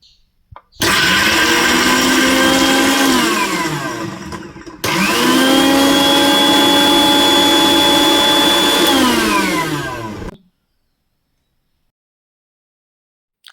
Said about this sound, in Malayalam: നമുക്കിത് നല്ല പോലെ ഒന്ന് അരച്ചെടുക്കാം